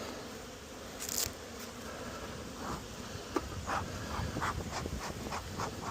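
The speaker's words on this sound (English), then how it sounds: "All these bees are coming home." A dense, constant buzz of many honey bees returning to an open hive fills the air, with a few scattered taps and bumps close by.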